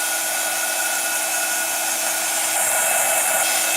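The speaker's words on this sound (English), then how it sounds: "Heat tool." A crafting heat tool blows steadily and loudly at close range, a continuous hair-dryer-like whoosh with a whining tone, used for mixed media pumpkin crafts and heard alone without voices.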